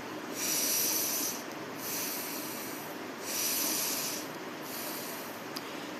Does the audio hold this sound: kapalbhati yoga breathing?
yes